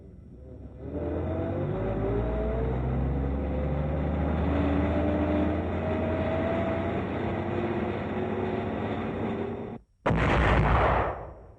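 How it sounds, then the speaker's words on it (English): A 155 mm self-propelled gun in Germany during the Second World War, with a long steady engine rumble and drone, then a brief gap before a sudden loud firing blast near the end. "A 155 self-propelled gun is fired point blank at an observation post inside Frenz, Germany, northeast of Eschweiler."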